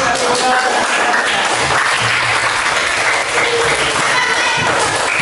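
Loud, dense clapping from a group of schoolchildren and teachers in a classroom lesson, applauding a presenter, sustained and close throughout without letting up.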